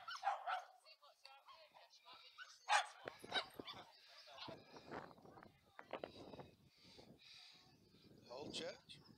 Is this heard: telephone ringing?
no